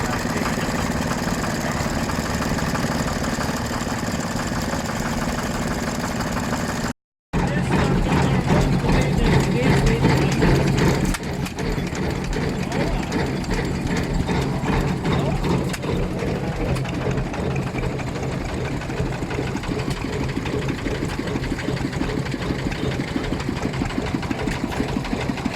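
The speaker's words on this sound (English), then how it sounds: "here's a load of engines just sitting here doing nothing." Vintage engines idling at a steam threshing festival, a steady mechanical chugging and ticking hum, with a brief cut and some talk in the background.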